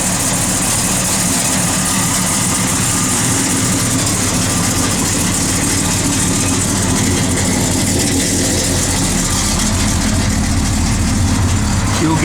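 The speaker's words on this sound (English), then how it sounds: "Good running big block, just a mild cam," A 1969 Chevrolet Chevelle SS big block with a mild cam idles loudly and close, a continuous deep rumbling throb that holds steady throughout.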